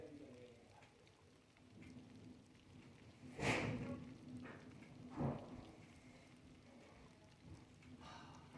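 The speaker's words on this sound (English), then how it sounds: "Oh, it's raining now." Heavy rain pours during a storm, a steady, fairly quiet hiss broken by a couple of louder bursts of downpour.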